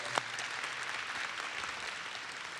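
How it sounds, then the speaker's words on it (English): Audience applause in a college gym, a steady wash of clapping from a crowd filling the room, with one sharp louder clap near the start and no break in the sound. "Let's give him a round of applause."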